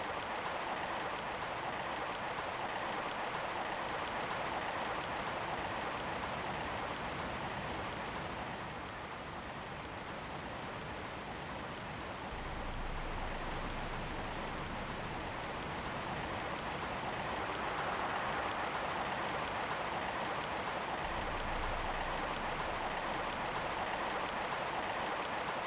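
Steady rushing water fills the whole stretch in Tomb Raider, a continuous broadband wash like a stream or waterfall, constant and fairly loud with only slight swells and no voices.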